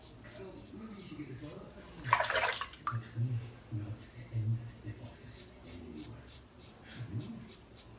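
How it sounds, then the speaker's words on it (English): Hot water from a tap runs during a wet shave, heard as one short gush of flow near the start amid otherwise quiet, faint background sound. "I'm actually quite enjoying this hot water"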